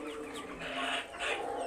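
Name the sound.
hill chickens clucking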